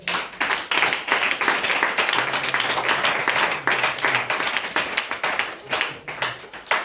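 A church congregation claps rhythmically in praise during a worship service, a steady, dense run of hand claps that fills the room, loud and sustained throughout.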